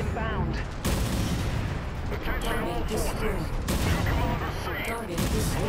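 Artillery fire in Mechwarrior 5: Mercenaries lands in dense, rumbling barrages of blasts and rapid shots, loud and nearly continuous, with game sounds and talking mixed in.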